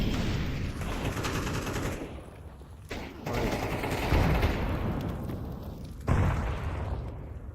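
Rapid automatic gunfire in a tactical shooter game, sustained bursts with sharp reports and a couple of louder booms, close and loud throughout.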